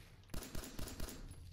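Gunfire in Fallout 4: four quick, fairly faint shots in a short uneven burst over a constant low background rumble, with no talking.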